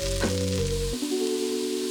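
Tomato paste frying and being stirred in a skillet for a creamy, spicy tomato beans and greens dish, giving a steady close sizzle that drops to a quieter crackle partway through.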